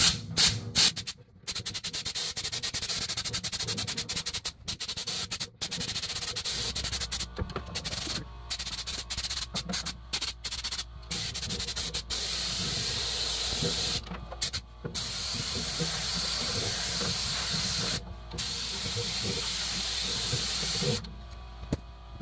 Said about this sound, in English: we'll blow that grate out, and what I use is just this hook to the air compressor.